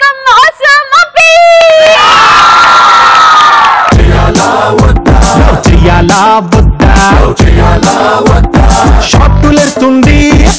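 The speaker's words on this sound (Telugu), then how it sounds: "give him a big round of applause" A studio audience at a Telugu television comedy show erupts loudly, with whoops and shouts at the start, then a sustained roar of cheering with rapid, rhythmic bursts like clapping.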